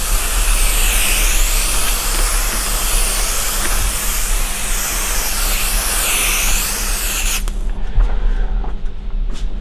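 Continuous loud hiss of an aerosol can of spray adhesive spraying a board, close by, cutting off sharply near the end.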